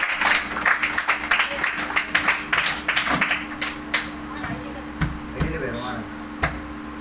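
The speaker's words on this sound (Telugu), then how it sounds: "అందరు కూడా చప్పట్లు కొట్టి ఆహ్వానించాం" An audience at a meeting claps to welcome a speaker, a steady patter of hand claps that thins out toward the end, with people talking underneath.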